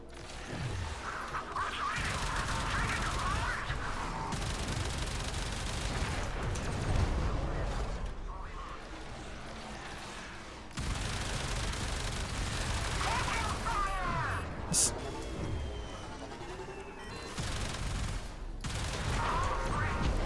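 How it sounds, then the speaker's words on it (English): Rapid automatic fire from the Karsanok, a Zetki weapon in Warframe, as a dense, loud stream of gunfire and impact crashes running almost continuously with brief breaks, mixed with game sound effects. "You see the Karsanok fires very, very fast, but it's a lot of fun and it absolutely tears up the enemy."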